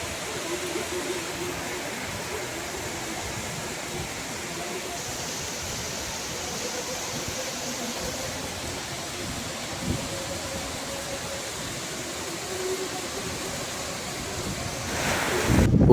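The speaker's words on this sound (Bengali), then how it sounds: "টিনের চালে বড় বড় বৃষ্টির এই ফোঁটার এই ধুমধুম শব্দ শুনতে দারুণ লাগছে।" Heavy raindrops drum on a tin roof during a monsoon downpour, a dense, steady wash of noise that stays even throughout, with a brief louder swell at the very end and no voices.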